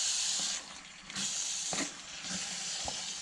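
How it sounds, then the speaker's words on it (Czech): Paprika frying in hot fat for a pork-slaughter goulash, a steady loud hiss and sizzle with brief dips and small clinks as it is stirred quickly. "Rychle zamíchám, aby nám paprika nezhořkla."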